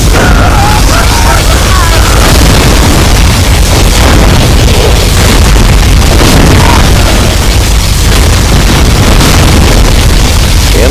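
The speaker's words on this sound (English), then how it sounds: "Particle cannon activated." A particle cannon strike in Command & Conquer: Generals Zero Hour during a USA versus GLA match on an alpine map: loud, continuous booming blasts that fill the whole stretch with heavy, distorted roar and crackle.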